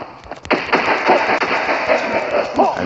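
The Blaze Axe energy weapon firing in the mobile game The Gods, a quick series of loud crackling, popping blasts over a steady electronic hum, with a voice talking over them.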